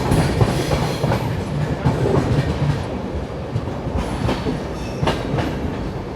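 An Indian express train pulls out of Kota Junction with a steady, close rumble of wheels on rails, rhythmic clickety-clack of passing joints and a faint squeal now and then, with no talking.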